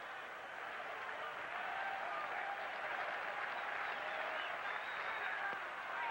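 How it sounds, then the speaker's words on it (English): A baseball crowd at Fenway Park during a Yankees–Red Sox game sends up a steady, mid-distance roar of cheering and applause that holds evenly throughout. "that's the crowd reaction"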